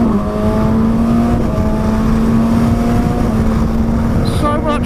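A 2019 Kawasaki ZX-6R motorcycle engine revs steadily around 7,000 rpm, a loud close drone with a rising whine, heavy wind rumble throughout and a brief voice near the end.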